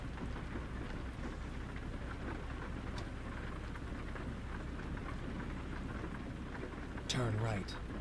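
Steady rain hisses across the scene in a truck driving game, with a brief loud thunder crack near the end, and faint voice underneath.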